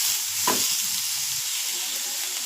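Coriander stems sautéing in hot oil, a steady close sizzle and hiss with a brief stirring scrape.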